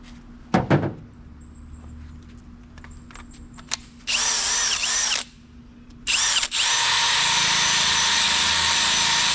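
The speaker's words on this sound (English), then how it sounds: "This wire wheel will get the job done." A power drill spins a wire wheel, used on a 2006 Dodge Charger R/T during a suede headliner job: a brief burst, then a sustained whirring run of about a second, a pause, and a longer loud continuous spin to the end.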